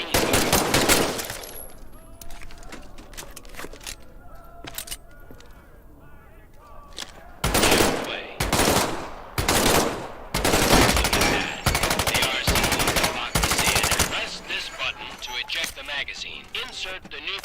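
Bursts of M1A1 submachine gun fire in the VR game Medal of Honor: Above and Beyond, loud rapid automatic volleys in several separate strings with quieter gaps between, and a voice speaking during the lulls.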